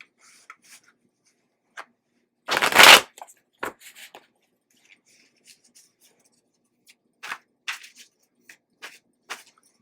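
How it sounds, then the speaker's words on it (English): Tarot cards are shuffled by hand in a quiet room, a few soft riffling and rubbing bursts with one louder shuffle near the start and scattered light card slides later. "I like to give them a good shuffle in between the various quadrants"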